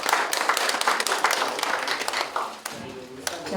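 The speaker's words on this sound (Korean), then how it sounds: "여러분 큰 박수 부탁드립니다." Audience applause at an awards ceremony in a lecture hall during an agricultural-industrial complex event, steady dense clapping for about two and a half seconds before it thins out and a voice takes over.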